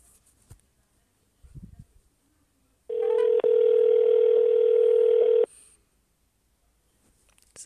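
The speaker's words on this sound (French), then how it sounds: "Ça sonne en Floride." An outgoing telephone call's ringing tone, one long steady electronic tone lasting about two and a half seconds, preceded by faint handling noise and followed by near-silence.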